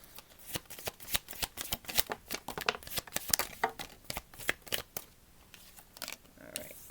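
Tarot cards being shuffled, a rapid run of crisp riffling bursts close up with an uneven rhythm and no talking.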